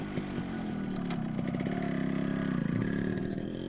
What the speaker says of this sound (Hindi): मुझको कोसता हुआ अथर्व अपनी बाइक तक पहुंचा और दिल्ली के लिए निकल लिया।